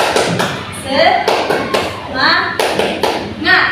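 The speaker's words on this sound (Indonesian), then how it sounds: "jadi ice breaking-nya itu tepuk semangat" A group performs the 'tepuk semangat' clapping ice breaker, sharp rhythmic claps in bursts mixed with shouted voices and talk, close and lively.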